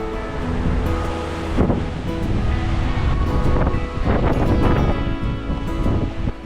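Strong wind roaring through a mountain forest in Tararua Forest Park, a loud continuous rush with buffeting gusts and heavy microphone wind noise throughout.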